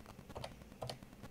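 Keys clack on an electronic typewriter in a quick run of soft, close strikes, with no voices.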